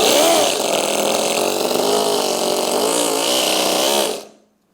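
A mini four-stroke, four-cylinder model engine running on methanol fuel, a loud, close, buzzing drone with shifting pitch that holds for about four seconds and then cuts off into silence.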